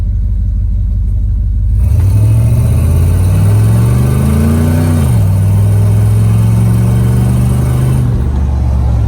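A Jeep Wrangler fitted with a Vortec engine pulls away from a stop, the engine climbing loudly in pitch, easing off briefly, then holding a steady higher drone before settling, heard from inside the cab with no talking.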